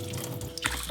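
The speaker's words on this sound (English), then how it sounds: "I always feel a little guilty throwing away the rice water." Cloudy water from rinsing rice is poured off into a sink, giving a short, soft splashing trickle at close range.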